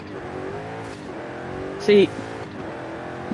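A Fox Body car's engine in a racing video game, heard from the first-person view, drones with a steady, moderately loud hum while a person talks over it.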